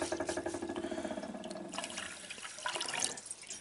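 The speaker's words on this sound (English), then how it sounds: "And add water" Water poured from a container onto rice for cooking, a close, gurgling splash with a rapid pulsing rhythm that eases off partway through, followed by softer trickling and sloshing.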